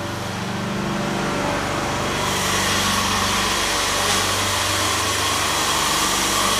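A truckmount carpet cleaning machine's engine runs steadily at 2900 RPM with 100 feet of hose attached, giving a continuous, even mechanical drone close by that rises slightly in intensity partway through, with no voices.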